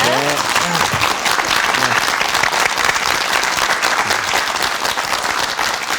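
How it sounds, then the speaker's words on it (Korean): A studio audience on a morning talk show bursts into sustained applause, many hands clapping in a thick, even wash from start to finish, with a voice briefly heard near the beginning. "박수 청해 주시기 바랍니다"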